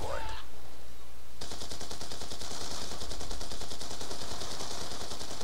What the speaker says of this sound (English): Do I call in my dragon fire?